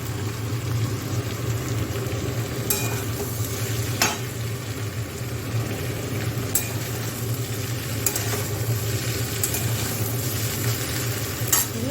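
Vegetables with chili are stir-fried in oil for a mola fish chochori, making a continuous close sizzle with occasional sharp scrapes and knocks as the spatula works the pan.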